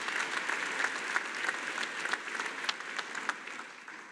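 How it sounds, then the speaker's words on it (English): An audience at a university commencement ceremony for graduate students applauds steadily, a moderate, even wash of many hands clapping that gradually thins toward the end. "Let's give him a hearty wave of applause."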